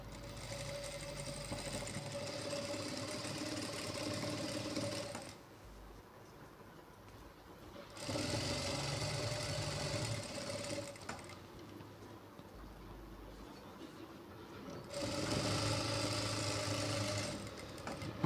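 A sewing machine stitches the edge of a blouse in three bursts of steady rapid whirring, separated by short quiet pauses, close up and with no talking.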